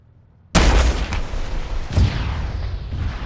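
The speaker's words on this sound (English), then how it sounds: "Rocket." A rocket fired in a military video game lands with a sudden loud blast, followed by a rumbling decay and a second boom about a second and a half later, close and prominent.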